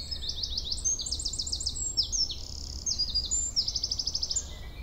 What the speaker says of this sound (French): Nous avons rendez-vous avec la grive musicienne